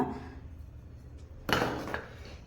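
Vermicelli boiling in a pot for milk semiya is stirred, giving a soft bubbling background broken by a sharp metallic clatter of a utensil against the pot and a second clink, close and without talk.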